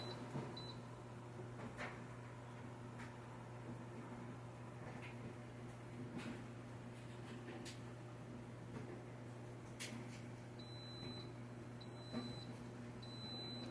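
A multicooker gives a few short, faint, high beeps near the end as its slow cook button is pressed, over a steady low hum and quiet kitchen ticks.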